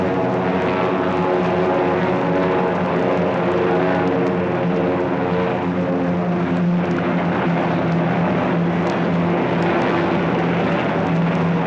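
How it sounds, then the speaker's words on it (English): Propeller aircraft carrying British airborne troops over the lower Rhine toward Arnhem, a loud, steady multi-engine drone with a deep pulsing hum that holds unbroken throughout. "Montgomery would drop a British airborne division over the lower Rhine"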